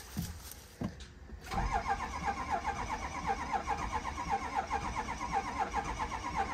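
After a brief knock and pause, a 6.0 Powerstroke diesel truck engine cranks over on weak batteries in a steady, sluggish rhythm, laboring continuously without catching, close by.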